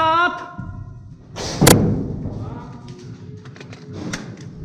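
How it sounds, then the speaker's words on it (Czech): An airsoft grenade goes off at an indoor arena as a single sharp, loud burst about a third of the way in, followed by thuds and clatter, with voices calling out before and after. "Granát!"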